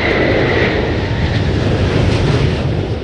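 Loud, steady roar of the Concorde supersonic jet airliner's engines, a dense broadband rush holding constant and close throughout with no voices.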